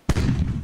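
A single loud, booming gunshot in the video game Corsairs: Return of a Legend, with a sharp onset, followed by a short rumbling tail.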